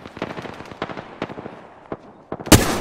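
Rapid bursts of gunfire in the battle-royale shooter Apex Legends, with sharp staccato shots spaced through the scene and a loud, dense volley near the end.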